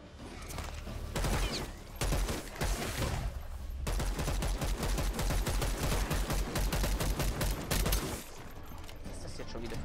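Rapid bursts of gunfire in the zombie game Dead Island 2, loud and nearly continuous with short pauses between volleys, while a player talks over the shooting.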